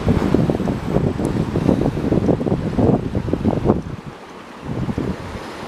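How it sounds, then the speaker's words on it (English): Rushing river rapids near old factory ruins on a river walk, a loud continuous roar mixed with wind buffeting the microphone, easing slightly toward the end. "And as you see the rapids out there, the water is running down."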